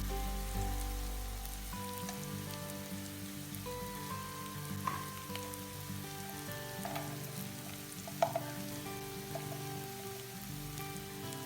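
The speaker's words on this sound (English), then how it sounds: "Combine all the spices and cook them till they are aromatic." Turmeric, chili and black pepper powders for a South Indian fish curry fry steadily in a pan, a soft continuous sizzle like light rain with occasional faint stirring ticks, and nobody speaks.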